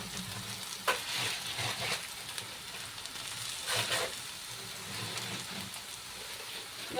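Ginger garlic paste fries in a pan for chicken curry, a steady low sizzle with occasional stirring scrapes, fairly quiet and with no voices over it.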